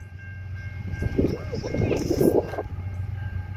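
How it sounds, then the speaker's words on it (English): A BNSF intermodal freight train approaches at Rochelle, Illinois, giving a low steady rumble that swells gradually while people talk over it. "Here comes a BNSF."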